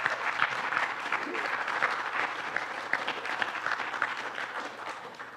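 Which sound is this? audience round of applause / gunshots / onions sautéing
audience round of applause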